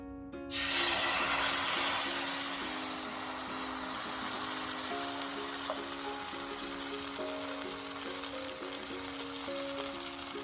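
Rice batter for soru chakli pitha hits a hot oiled pan and erupts into a loud, sudden hiss that settles into a steady sizzle, with a faint tonal hum underneath.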